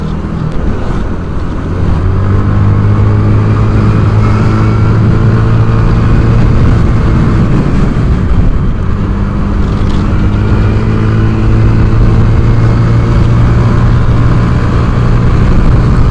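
A Yamaha Mio scooter riding through dense stop-and-go town traffic, its engine a loud steady drone with wind rush against the microphone, rising and easing slightly as it moves, with no talking.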